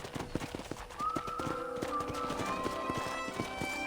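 Horse hooves clop in a steady galloping rhythm on a ranch in Red Dead Redemption, fairly quiet and continuous, with a brief whinny-like tone drifting over the hoofbeats.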